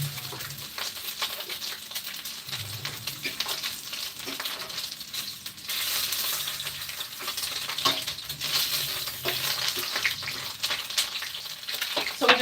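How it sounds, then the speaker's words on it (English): Chicken sausage fries in very hot oil, a steady crackling sizzle with spitting pops and occasional stirring scrapes, close and fairly loud throughout. "I'm just gonna put my sausage in the oil. It's very hot."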